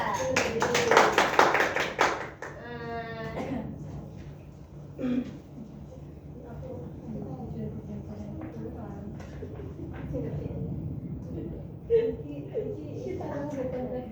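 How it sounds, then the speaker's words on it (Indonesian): A classroom group claps together for about two seconds, a dense burst of applause, followed by a teacher talking at length over faint room noise. "Beri aplaus untuk kelompok 2."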